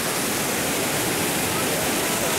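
Rushing waterfall water in Yaremche in the Carpathians, a loud, continuous, broadband roar with no talk over it.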